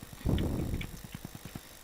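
Horse hooves clip-clopping in a Minecraft game: a burst of louder trotting at the start, then a steady run of evenly spaced hoof clops, close and clear, with no talk.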